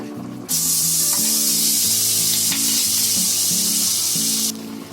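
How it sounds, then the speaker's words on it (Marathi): Butter sizzles steadily in a hot kadai on a gas stove, a loud broadband hiss that starts abruptly, holds for about four seconds, then cuts off, with faint low background tones and no talk. "आता मी कढईमध्ये बटर टाकते पहिला."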